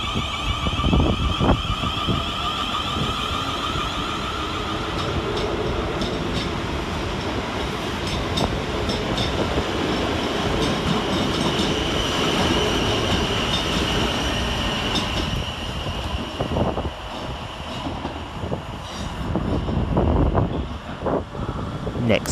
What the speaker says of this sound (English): Next to depart we will see 444029, working the 1417 South Western Railway service from Portsmouth Harbour through to London Waterloo.